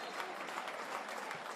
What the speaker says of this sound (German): Rhythmisches Klatschen der Zuschauer.